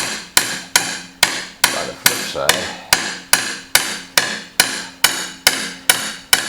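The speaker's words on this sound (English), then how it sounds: "letting the hammer do the work. I'm not putting much on there." A hammer taps steadily on the tailstock of a Monarch 10 EE lathe during disassembly, giving about fourteen evenly spaced sharp metallic strikes close by, each ringing briefly, with a few words spoken between them.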